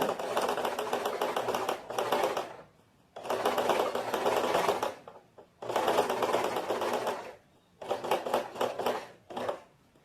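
A sewing machine topstitches tailored trousers in four steady bursts of rapid stitching, each a couple of seconds long, separated by short pauses, heard close and alone with no talking.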